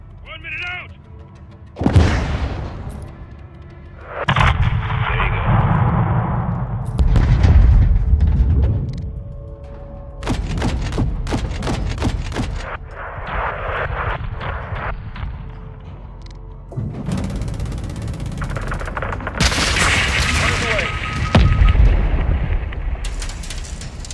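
Gunfire and explosions in the Modern Warfare 2 campaign come in loud irregular bursts. Rapid volleys of shots mix with heavy booms and rumbling, and voices talk over the combat.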